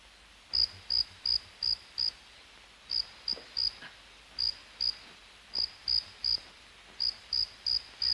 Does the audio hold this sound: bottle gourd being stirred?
no